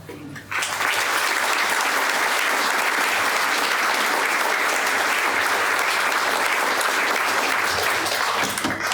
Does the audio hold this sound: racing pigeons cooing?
no